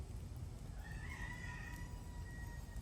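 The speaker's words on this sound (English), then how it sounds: "baby, just a few chickens." A rooster crows once in the middle distance over a steady low rumble of background noise, with no voices nearby.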